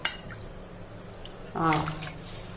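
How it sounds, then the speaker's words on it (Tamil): Water pours into a pot of soaked rice while a weight-loss kanji is being made, a short watery splash and gurgle that starts partway through, close by over quiet room tone. "அதே கப்பில் ஒரு 6 கப்பு தண்ணி ஊற்றிக்கிடுவோம்"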